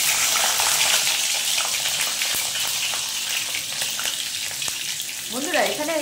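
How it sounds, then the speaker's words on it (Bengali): Green beans frying in a pan for a lentil dish, a steady bright sizzle running throughout with faint clatter and a short rising whistle-like sweep near the end. "এখানে বিনস গুলো আগে ভেজে নিচ্ছি"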